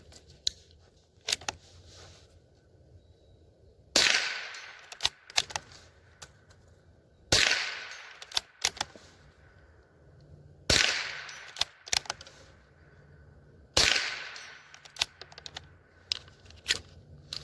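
A Howa M1100 .22 LR rifle, back from repair, fires four sharp shots spaced a few seconds apart outdoors to finish a magazine, each with a short ringing tail, and small mechanical clicks fall between them.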